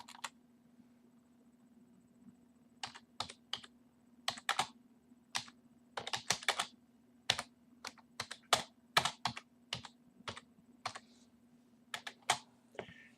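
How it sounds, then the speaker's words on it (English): Someone types on a computer keyboard while editing a file on a Raspberry Pi set up for home automation. Crisp key clicks come close and clear in uneven bursts and short runs over a faint steady hum, with no talking. "you can change this just hitting backspace and then typing in whatever you want."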